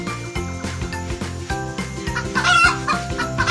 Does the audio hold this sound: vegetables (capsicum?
no